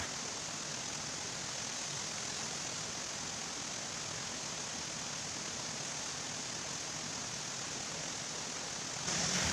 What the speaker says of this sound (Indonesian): Karena di lokasi ini sungainya kecil dan dangkal